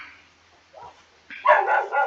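Dogs bark at night a short way off, a faint yip followed by a louder burst of a few rough barks, with no talking.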